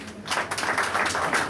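An audience at an anniversary gathering of the Ndé community in Indonesia breaks into applause, a burst of dense, continuous clapping that swells quickly and holds steady close by.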